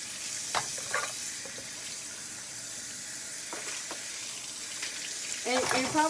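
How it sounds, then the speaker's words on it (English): Water runs steadily from a kitchen tap while measuring cups are rinsed, with a few clinks of the cups and a short spell of talking near the end. "so just rinse real fast."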